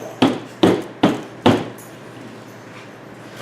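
Irish-style cold process soap being pounded: four sharp, evenly spaced thuds close by, each fading quickly, followed by a stretch of quiet.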